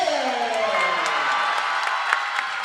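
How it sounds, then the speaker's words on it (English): A crowd at a high school volleyball match cheering and shouting in an indoor gym, a steady roar of many voices with some applause and whoops. "Pretty fired up crowd here tonight"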